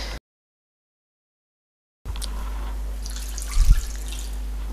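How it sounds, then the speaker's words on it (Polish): After a brief silence, water pours steadily into a pot over lemon peel with a soft splashing rush, growing a little louder near the end. "Teraz skórkę cytrynową zalewam wodą."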